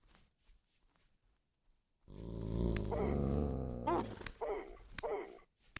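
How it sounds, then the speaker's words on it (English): A dog in the game Vintage Story lets out a long, loud growl followed by a few sharper snarling barks, close up after a brief quiet stretch. "Dog spotted."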